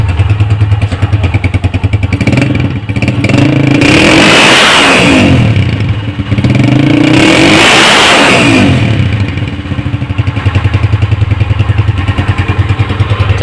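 A 2006 or 2010 Honda CG 125 motorcycle idles loudly up close, then its engine and silencer rev twice in strong swells before settling back to a steady, throbbing idle.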